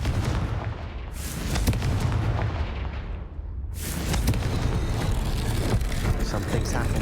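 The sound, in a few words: Confringo blasting curse explosion from the video game Hogwarts Legacy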